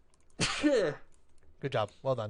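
A sneeze bursts out during a relaxed podcast chat among friends, a loud broadband burst near the start, followed by people talking.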